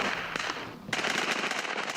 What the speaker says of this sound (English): From next door, there's the sound of gunfire.